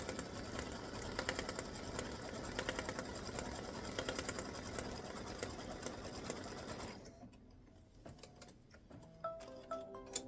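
An embroidery machine stitches on card in a fast, steady mechanical rattle that runs for about seven seconds, then stops, leaving faint clicks and small handling noises.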